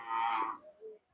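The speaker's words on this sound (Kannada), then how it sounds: "ಎಲ್ಲ ಹೈಫೈ ಎತ್ತುಗಳು ಇವೆಲ್ಲ ಇರೋದು." A bullock at a busy cattle market in Kerur, Badami taluk, gives a single drawn-out low that fades into a quieter second call, close by and with no voices over it.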